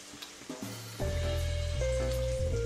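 Onion sautéing in a pan until reddish, salt going in, giving a steady close sizzle that swells loudly after a brief quieter start and holds with faint stirring scrapes.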